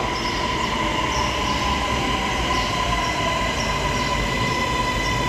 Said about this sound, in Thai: มาแล้วครับรถไฟฟ้าที่จะไปสถานีท่าพระปิ้วมาแล้ว